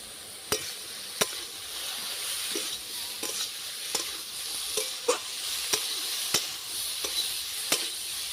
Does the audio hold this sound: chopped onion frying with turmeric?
yes